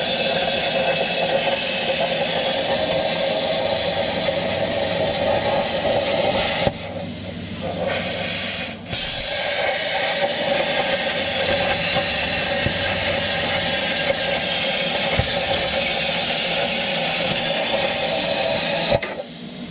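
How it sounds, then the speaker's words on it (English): A plasma cutter slicing a section off a rear differential, giving a loud, continuous broadband hiss and roar that runs almost unbroken, with brief dips where the arc pauses. "I'm gonna go ahead and get out the plasma and cut out this section"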